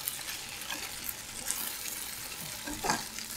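Tortang talong, an eggplant omelette, sizzles in a frying pan while being flipped, a close steady crackle of hot oil with a brief louder burst near the end and no voices.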